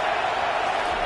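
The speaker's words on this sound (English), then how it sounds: "This crowd trying to make life miserable for this offense." Crowd at a college football stadium, a broad steady roar that stays constant for a brief moment without distinct cheers or claps.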